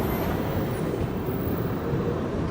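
A train rolls into Dhanbad Junction railway station, producing a steady, dense rumble of wheels and carriages that stays constant and fairly close for the whole stretch.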